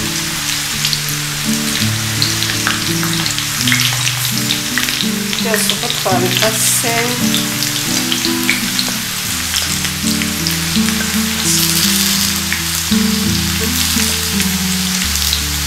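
Carrots and onions frying in a hot pan, a loud continuous sizzle with crackling spatter and occasional stirring, close throughout while a voice speaks briefly.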